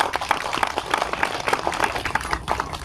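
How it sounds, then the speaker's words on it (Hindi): Audience clapping at an award ceremony for people with disabilities in Sitapur, a dense, steady burst of hand claps filling the room, fairly loud and sustained without letup, no voices over it. "पहले आप लोग जोरदार तालियां बजाएं।"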